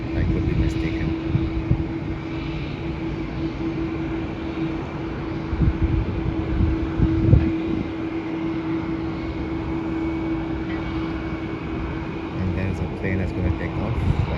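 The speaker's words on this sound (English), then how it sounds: "Plane that's going to take off. That is a Virgin Australia plane, Boeing 737" A Virgin Australia Boeing 737 powers up for takeoff, a steady distant engine roar and hum under intermittent speech, holding a constant drone throughout.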